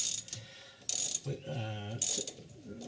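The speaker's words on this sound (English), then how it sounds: "reset the ratchet without holding it, it actually undoes the grip inside the stud extractor" A ratchet works a stud extractor on a Triumph Vitesse's rear suspension, giving short bursts of sharp clicking in a couple of strokes, with a faint voice murmuring in between.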